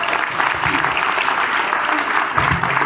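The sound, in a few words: audience applause after a speech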